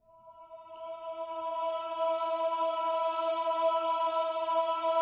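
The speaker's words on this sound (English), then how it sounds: "I added a choir sample" A sustained choir sample in a music mix, a smooth voiced chord that swells in gradually and blends from a low register into a higher one, playing alone.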